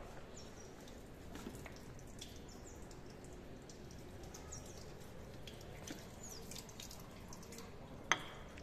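Water runs steadily from a laboratory tap over a hot iron ore solution being cooled, a continuous faint splashing hiss with a single sharp click near the end.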